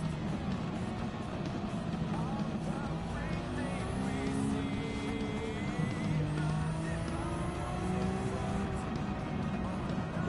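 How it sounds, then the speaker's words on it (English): A turbocharged car engine in the Gran Turismo 7 racing game drones continuously, its pitch rising and falling with the revs, with a whining overtone and steady road noise. "if I wanted to get the true turbo noise"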